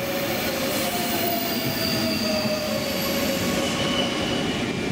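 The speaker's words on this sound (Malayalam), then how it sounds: "കൃത്യസമയത്ത് തന്നെ ട്രെയിൻ ഇറ്റാലിയയുടെ ഒരു ട്രെയിൻ അവിടെ എത്തി നിന്നു." A Trenitalia train pulls into a station platform in Switzerland, with loud continuous rolling rumble and high, drawn-out wheel squeals across the whole stretch, no voices.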